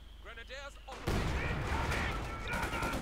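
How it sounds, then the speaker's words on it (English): Heavy mortar shell strikes in a Company of Heroes 2 battle, a sudden loud burst at about one second followed by sustained rumbling explosions and battle noise, with a voice talking faintly before the blast. "Another heavy mortar strike there"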